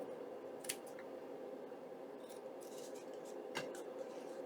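Scissors snipping through paper while trimming a faux envelope pocket for a junk journal, two quiet, brief cuts heard close up against faint room noise.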